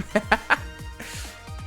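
A chicken in the Ghost Trick: Phantom Detective video game gives three quick clucks, followed by a softer run of low, burbling clucks over a faint background hum.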